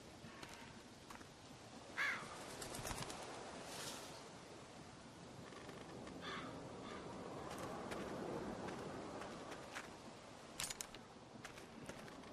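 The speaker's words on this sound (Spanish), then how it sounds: "¿Van a matar ese pájaro?" A crow caws a few times at a distance over steady outdoor ambience of rushing water and wind, with scattered clicks and knocks.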